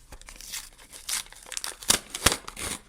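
Crinkly plastic rustles and tears in short bursts as a small Duolingo character blind packet is pulled open, close and fairly quiet, with no voices.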